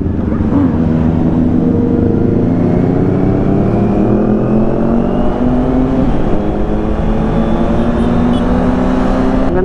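A Honda CB650R motorcycle with a stock muffler hums at a steady, loud engine drone, its pitch climbing slowly as it rides on through the night toward Tagaytay.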